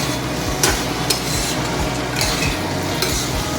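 Khero is stirred in a frying pan where oil has separated from the spices, with a continuous close sizzle and repeated scraping strokes of the spoon at an uneven rhythm.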